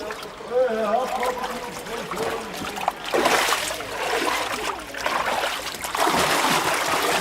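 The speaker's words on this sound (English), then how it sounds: "We soak the skin in water, 3 or 4 days to soften it." Wet sheepskins splash and slosh in water troughs at an old-style tannery, a steady mix of trickling, dripping and churning water close by, with heavier surges of splashing at intervals.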